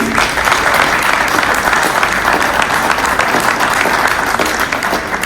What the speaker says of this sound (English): I want to give a round of applause to the whole team from DCC that put this event together